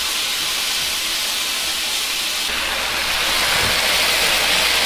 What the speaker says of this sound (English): the beef has gotten a nice brown color and sizzling really well